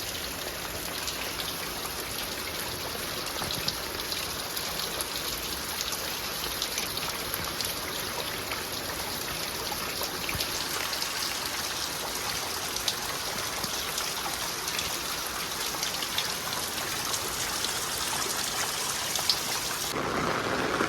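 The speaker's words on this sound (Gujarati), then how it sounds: "વરસાદ વધી ગયો છે" Heavy rain pours down steadily, a dense, even hiss of drops striking surfaces that holds unbroken throughout.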